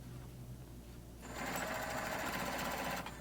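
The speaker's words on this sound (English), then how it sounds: "Back stitch at the beginning and at the end, and I'm just going to sew straight down" A sewing machine stitches straight seams through fabric for a throw pillow, starting after about a second of quiet and running as a steady, close, fast mechanical hum before stopping near the end.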